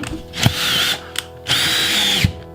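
A power drill driving loose drywall screws in a high cube shipping container, two strong whining bursts of motor spin with sharp clicks at each start and stop, close and loud with no talking.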